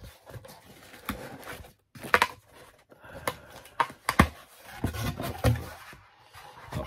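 Unboxing of the Rolling Stones Tattoo You 40th anniversary super deluxe 5LP box set: close, irregular crinkles, taps and handling clicks of cardboard and packaging, with brief quiet pauses between bursts.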